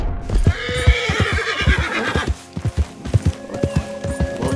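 A horse in Red Dead Redemption 2 gives a loud, drawn-out whinny near the start, followed by a steady run of close clip-clopping hoofbeats on the ground that carries on to the end without speech.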